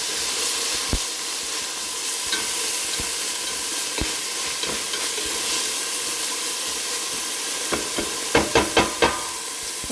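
Anaheim peppers and cilantro stirred in a frying pan, a loud steady sizzle and hiss close up, with occasional scrapes and a quick run of four knocks of the utensil near the end.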